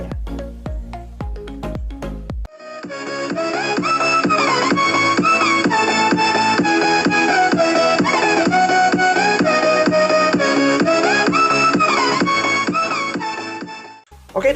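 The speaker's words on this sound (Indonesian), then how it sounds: "itu adalah suara dari JBL Mini Charger 3 Plus ini" A JBL Mini Charger 3 Plus Bluetooth speaker plays music loudly and steadily after a short lead-in. The track is a full mix with clear melody and beat, and it cuts off near the end.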